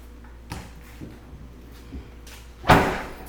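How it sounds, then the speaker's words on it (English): The door of a 2020 Dodge Challenger Widebody Scatpack swings shut with one loud, close thud, after a few soft knocks and rustles. "Hey, Bankhead, can you close the door?"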